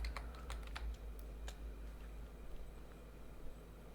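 Quiet keystrokes on a computer keyboard as a sudo netplan apply command is entered: a quick irregular burst of clicks at first, then sparser taps over a low steady hum.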